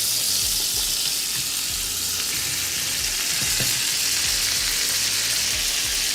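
Steaks sear in a hot pan with butter and pepper for steak au poivre, giving a loud, even, continuous sizzle with faint stirring or shifting sounds now and then.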